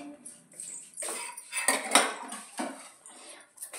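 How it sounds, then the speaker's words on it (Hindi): Dishes, pots and utensils are washed quickly at a home kitchen sink, with irregular metallic clinks, scrapes and clatters that rise and fall in bursts, close and fairly loud. "और अब इन बर्तनों को धोते फटाफट से।"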